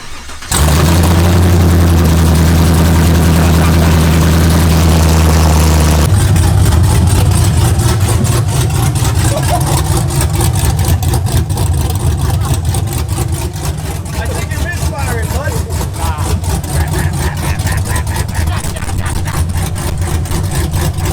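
A cammed Camaro engine cranks and fires, settling into a loud, choppy idle with the exhaust dumps open, then keeps running with a lumpy, pulsing rumble for the rest of the clip.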